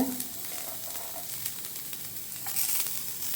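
Chopped onion dropped into hot coconut oil for a dried-fish curry: a steady, bright sizzle with faint crackles, close and continuous, no talk.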